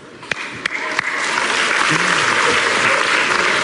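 A studio audience at a televised singing contest breaks into applause, starting with a few sharp separate claps and quickly swelling into loud, dense clapping and cheering that carries on to the end.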